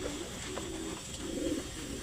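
Pigeons cooing softly at a racing-pigeon loft, a low, steady murmur of calls running throughout with no talk.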